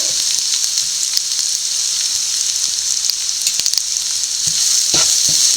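Green chilies with turmeric and salt sizzle loudly in hot oil for papaya thoran, a steady bright hiss broken by occasional stirring scrapes in the pan.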